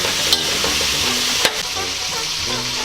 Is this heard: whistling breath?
no